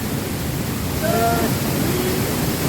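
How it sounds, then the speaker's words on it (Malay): Continuous roar of the waterfall at Sungai Balak on Gunung Korbu Gayong, a loud, steady rushing wash of water heard up close with no talking. "Air terjun Sungai Balak."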